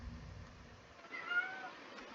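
A single soft cat meow from a Touhou fan-made video game, short and rising, heard faintly over a quiet low background hum.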